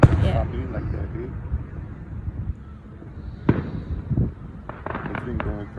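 Neighborhood fireworks going off nearby, with sharp bangs and crackling bursts popping at irregular moments under and between casual conversation among several people.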